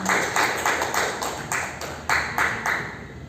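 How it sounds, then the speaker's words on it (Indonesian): An audience applauds during a school presentation at SMAN 3 Pamekasan, with a string of moderately loud, evenly spaced claps in a steady rhythm from nearby. "Tepuk tangan dulu untuk kita semuanya"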